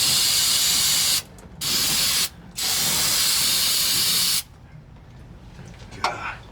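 Aerosol brake cleaner sprayed during an engine oil pressure repair: three loud, harsh hissing bursts up close, the last and longest about two seconds, each stopping abruptly, followed by quiet handling noises.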